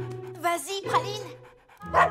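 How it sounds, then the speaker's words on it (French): A small female cartoon dog barks in short yips in a children's animated series, the bright barks rising over and between voices talking close by. "Oh, cette petite chienne est adorable."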